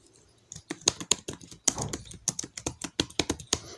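Someone typing a comment into an Excel spreadsheet on a computer keyboard, a close, brisk string of uneven key clicks with short pauses and no speech.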